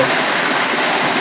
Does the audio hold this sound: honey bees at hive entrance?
no